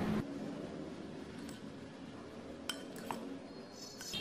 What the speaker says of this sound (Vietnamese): mình sẽ dùng cái thìa canh này mình múc nhé